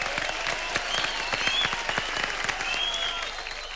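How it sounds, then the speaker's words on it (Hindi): Studio audience applauding on a Hindi comedy talk show, steady dense clapping with crisp individual claps filling the whole stretch, fairly loud and close, with no talk over it. "लेकिन अभी हम ऐसे ताली बजाना चाहेंगे"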